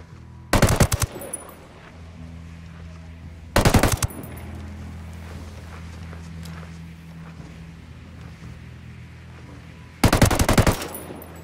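Three loud bursts of automatic gunfire in Ghost Recon Wildlands, each lasting under a second and spaced several seconds apart over a low ambient rumble.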